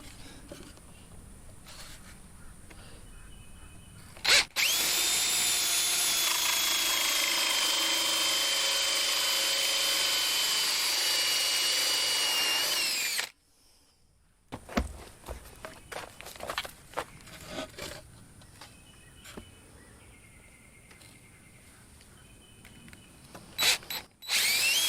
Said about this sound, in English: And I'm going to be drilling a hole